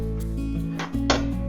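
A tall metal trivet set down into the glass bowl of a halogen oven, giving a couple of clinking knocks against the bowl over a steady low hum, close and fairly loud.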